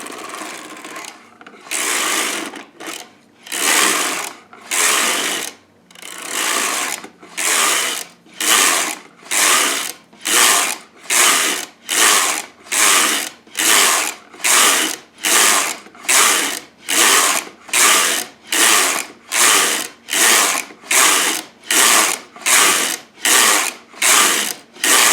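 Sister toy knitting machine carriage pushed back and forth knitting rows, a steady run of rhythmic ratcheting, clattering sweeps about one per second, loud and close with no talk.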